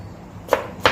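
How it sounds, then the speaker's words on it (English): Two crisp knife strokes through snake gourd, a hybrid variety, chopped with a sharp knife on a board, each a short close tap with a quiet pause between. "how nicely you're chopping. Nice sharp knife you're using"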